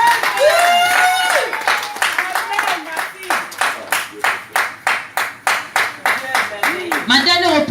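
A church congregation claps in a steady rhythmic beat, loud and close, with voices and singing or calling over it, during a worship service where a couple gives testimony.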